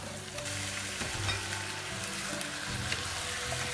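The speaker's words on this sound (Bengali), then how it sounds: "আমার পেঁয়াজটা মোটামুটি ভাজা হয়ে গিয়েছে। এখন আমি এর সাথে মাংসটা দিয়ে দিই।" Mutton dropped into a pan of fried onions for an Eid rezala sizzles loudly and steadily, with stirring clatter throughout and a low hum underneath.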